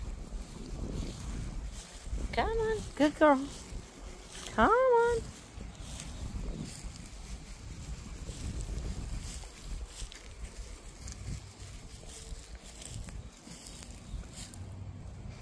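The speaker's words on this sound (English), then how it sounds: "It's windy out here." Wind gusts buffet the microphone outdoors during a walk with a dog, making a steady low rumble that swells and eases throughout, while a person calls out encouragement over it.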